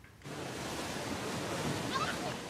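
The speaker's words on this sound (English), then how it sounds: "This rushing whitewater" Rushing whitewater pours through water park chutes at Glenwood Springs, a dense steady roar of churning water that starts abruptly after a brief quiet moment and holds at an even level, with faint splashes on top.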